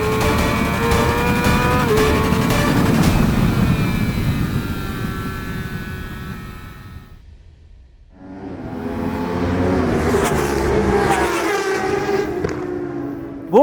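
A car races on a track through its final lap, a loud engine roar rising and shifting through gears, dropping briefly to a lull before surging again, with no talking.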